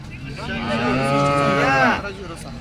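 A single long, close cow moo, rising then falling, lasting over a second amid faint background noise.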